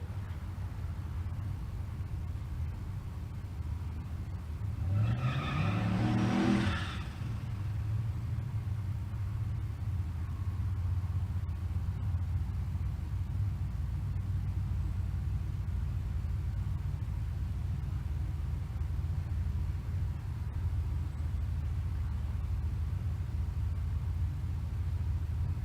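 Drag race cars, including a 2003 Honda Accord, rumble at a distance, and one car roars past in a short rising and falling pass around the middle before the low engine drone settles back under the ambience.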